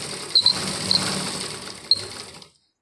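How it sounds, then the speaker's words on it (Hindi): A sewing machine runs steadily while stitching a seam along the sleeve of a tight suit being let out, a continuous close motor whir with a few sharp clicks before it cuts off abruptly. "इसी के फिटिंग को लेते हुए हम यहाँ पर सिलाई लगा देंगे"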